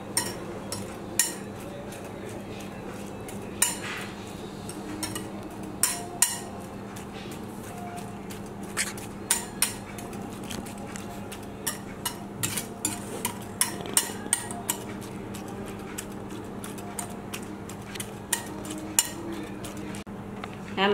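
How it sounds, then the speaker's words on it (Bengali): Grated carrot and other vegetables being mixed with egg in a bowl for oats and semolina cutlets, heard as repeated light clinks and scrapes of a utensil against the dish with soft mushy stirring in between, with no talking. "আমার সবজি এবং ডিমটা মাখানো হয়ে গেছে।"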